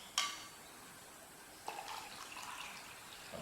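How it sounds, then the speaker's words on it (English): Water runs quietly into a container while a mould of a baby kit is being made. It starts with a soft splash, goes quiet briefly, then a second burst turns into faint, steady pouring. "And we'll fill that up with water."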